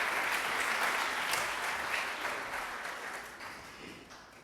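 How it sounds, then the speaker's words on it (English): An audience at a State of the Second District evening applauds children, a dense wash of clapping that starts full and slowly tapers off toward the end. "Let's give the kids another round of applause."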